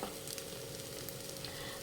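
A rice flour dosa sizzles steadily on a pan over a low flame, a continuous close frying hiss with faint crackles and no talking.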